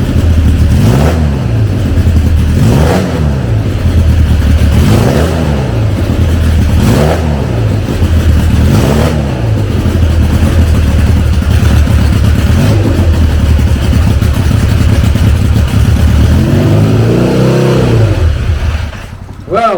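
A super drag motorcycle engine fires up in a museum setting and revs hard again and again in rising and falling sweeps, loud and close and sustained throughout.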